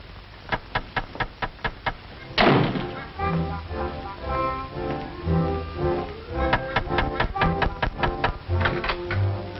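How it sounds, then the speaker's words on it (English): Sharp, evenly spaced raps sound on a door in an old comedy sketch, a quick series up close, then a burst of noise and more knocking under talking voices. "Someone's knocking at the door."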